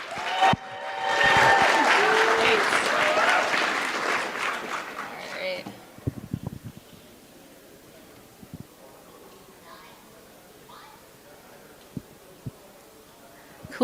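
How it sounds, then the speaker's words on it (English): An audience at a privacy and cryptography conference applauds a speaker, a dense burst of clapping that is loud at first, then thins out and fades after about six seconds. Scattered faint claps and quiet room noise follow. "So big round of applause."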